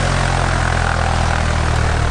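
The engine of a P-26A Peashooter aircraft roars close and loud in a steady propeller drone, with no voices over it.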